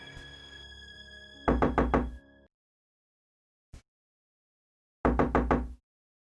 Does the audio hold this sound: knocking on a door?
yes